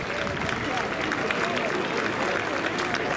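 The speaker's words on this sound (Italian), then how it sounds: "facciamo un applauso." Crowd applause at a prize giving during a historic pageant festival, a continuous even patter of many hands with murmuring voices mixed in.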